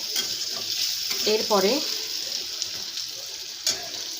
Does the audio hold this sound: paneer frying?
yes